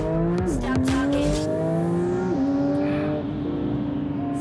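A Porsche 911 GT3 of the 992 generation revs hard and climbs through gears, its raw, slightly gritty engine note rising in steps with clear upshifts before fading slightly, loud and close.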